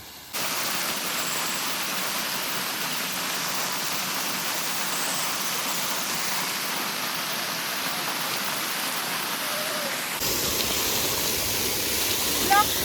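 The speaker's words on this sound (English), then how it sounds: "Waterfall, water fountain." Steady rushing water from a waterfall or water fountain fills the scene, an even broadband roar held at constant level throughout with a slight change in texture near the end.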